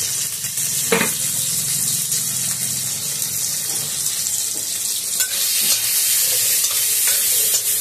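Spices with salt and turmeric frying in a pan before being ground for a cabbage ghonto cooked in fish oil, a loud, steady hissing sizzle with soft stirring scrapes, close and continuous.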